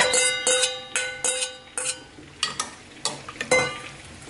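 A spoon stirs mutton into dalcha in a pot, giving a run of rhythmic metallic scrapes and clinks over a soft sizzle, roughly ten strokes in quick succession with no talking.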